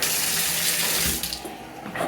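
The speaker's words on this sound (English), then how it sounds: "Let's check out real quick what the water pressure is like on this rainfall shower." A rainfall shower head in a hotel suite bathroom at the MGM Grand runs at strong pressure, giving a loud, steady, close hiss of pouring water that later breaks into splashing and spattering.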